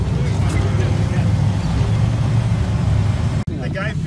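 An Ultra4 off-road race vehicle crosses the finish at the AOAA Off-Road Park in Pennsylvania, its engine a steady loud rumble heard under continuous commentary speech, ending with a sharp knock.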